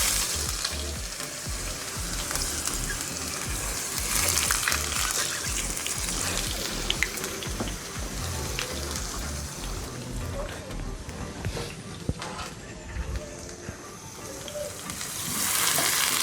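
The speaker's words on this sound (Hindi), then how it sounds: "ये पैन में हमने ऑयल गरम कर लिया है, इसमें हमने प्याज डाला" Chopped onions fry in hot oil in a pan for Pakistani-style beef nihari, a loud, dense, continuous sizzle and crackle with occasional stirring; a voice talks over it at times.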